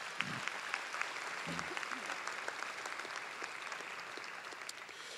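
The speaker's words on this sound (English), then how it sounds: "So let's give George Mason a round of applause" A closing-ceremony audience at a summer program gives George Mason a round of applause, an even patter of many hands at moderate volume with a couple of brief voices near the start.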